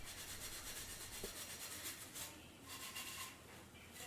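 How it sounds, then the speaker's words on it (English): Steel wool rubs paste wax onto a handmade hand saw, producing a continuous close, soft scrubbing and rasping sound with slight rhythmic swells. "I finish the whole thing off with a good coat of paste wax rubbed on with some steel wool"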